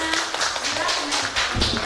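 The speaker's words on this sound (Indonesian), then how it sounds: "Tepuk tangan semuanya." Applause from a group welcoming players at a community parenting simulation event, a dense, steady patter of many hands clapping, close and fairly loud, with voices mixed in underneath.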